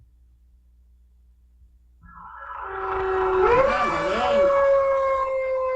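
Children's voices imitate a fire truck siren, a rising and falling wailing tone that starts about two seconds in and holds loudly to the end, with several voices overlapping in a classroom-style lesson.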